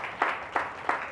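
Applause from a workshop audience at a leadership wellness retreat in Rishikesh, heard as a steady broadband wash with three sharper swells, moderately loud and continuous throughout.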